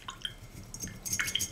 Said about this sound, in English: Add a lot of water.